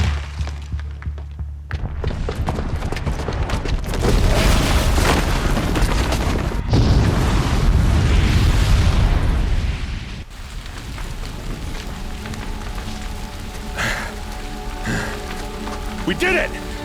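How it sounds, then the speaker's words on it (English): A bomb explosion in the video game Horizon Zero Dawn: a heavy rumbling boom swells and sustains for several seconds before fading into lower, steady game ambience, loud and without speech. "the booby trap on the bomb downstairs is gonna get set off"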